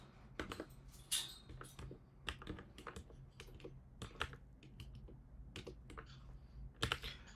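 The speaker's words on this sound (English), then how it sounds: "And press enter" Quiet, close clacking of a computer keyboard, with quick irregular bursts of keystrokes and short pauses between them, faint and alone.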